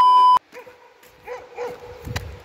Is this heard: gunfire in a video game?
no